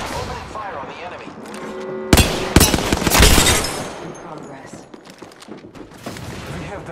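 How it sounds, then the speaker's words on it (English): Bursts of gunfire in an Apex Legends match crack out around the midpoint, a few loud sharp volleys over constant game ambience, then fade to lighter scattered shots. "Opening fire on the enemy."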